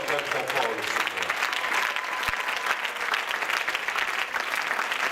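A church congregation claps loudly and continuously to acclaim the Lord during a child's presentation service, dense applause filling the room without a break.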